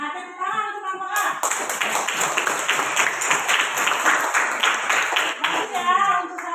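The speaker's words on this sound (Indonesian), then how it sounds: "Tepuk tangan untuk kelompok A" A class of children claps together for a group that has just presented, in steady rapid applause lasting several seconds, with a few young voices chattering faintly through it.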